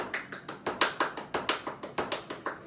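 Crisp, evenly spaced percussive hits from a tap dance class step, about fourteen sharp taps and claps in quick rhythmic groups, recorded close and alone with no talk.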